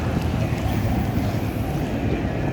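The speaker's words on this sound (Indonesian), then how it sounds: "Ini anginnya semakin kencang saja mas bro, susah lemparnya." Strong wind batters the microphone outdoors in a dense, steady low roar with small gust swells, constant and fairly loud throughout.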